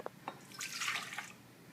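Hot water poured into a chia, hemp and buckwheat bread mixture, a short soft splashing gush after a couple of faint clicks, close and moderately quiet.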